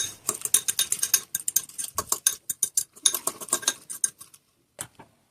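Utensil beating eggs with black pepper and crushed red chilli for an omelette in a bowl, a fast run of sharp metallic clinks and taps, close and loud, pausing briefly before a last few strikes.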